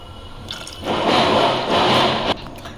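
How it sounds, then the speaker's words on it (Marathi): Water pours steadily into a pan for about a second and a half, a broad splashing rush that starts and stops cleanly, with no talking. "आता याच्यामध्ये मी जितका आम्हाला रस्सा लागेल तीन माणसांना तितकं पाणी घालणार आहे"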